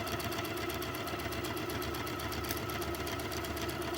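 Close and steady, a sewing machine stitches a quarter-inch quilt seam through light fabric, a fast even mechanical whir and chatter that runs without pause, no voices.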